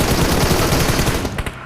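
Gunfire in a squad-based shooting video game: loud, rapid, dense automatic bursts rattling continuously at close range, then thinning into a few final shots.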